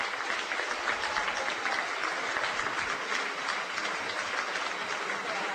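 Steady, dense applause rises from the crowd at a minor-league baseball game, River City Rascals against Evansville Otters, as an injured pitcher walks off the field after a line drive to the head. It sounds distant and unbroken throughout.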